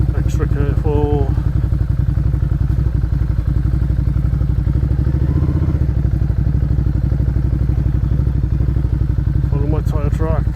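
An off-road motorcycle engine drones steadily as the bike crosses swampy ground in Ireland, a close continuous mid-pitched hum with occasional clatter, while a rider speaks over it at the start and end.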